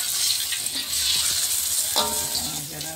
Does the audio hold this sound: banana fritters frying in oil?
yes